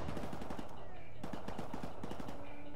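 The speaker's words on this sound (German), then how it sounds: "Ne, das ist nur ein M4." Automatic M4 rifle fire in Call of Duty Modern Warfare Remastered comes in two close, loud rapid-fire bursts with a third short volley at the end, under game noise and a voice talking.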